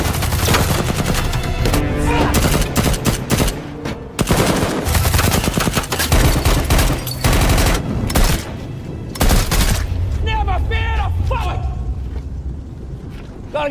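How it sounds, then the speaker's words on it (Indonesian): Heavy gunfire from a film battle against Russian soldiers, with dense overlapping bursts and volleys, loud and continuous, mixed with shouting voices and score. "baku tembak terjadi antara Denny melawan tentara Rusia"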